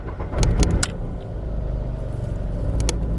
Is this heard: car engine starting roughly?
yes